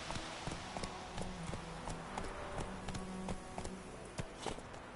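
Hooves of Geralt's horse Roach in Witcher 3 clip-clop in a steady rhythm, with faint game ambience and music underneath and no talk.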